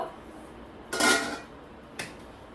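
A metal tin of cookie dough set down in an oven gives two short clattering metallic knocks, the first louder and longer, the second a brief clink about a second later, against quiet room tone.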